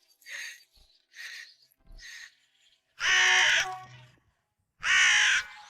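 Cartoon crow cawing in the Niloya animated series, a run of hoarse caws: three shorter calls followed by two long, loud, grating ones, heard close with no voices over them.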